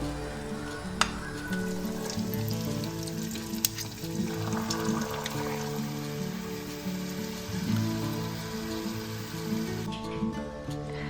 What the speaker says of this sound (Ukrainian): І продовжуємо смажити, поки закінчиться все тісто.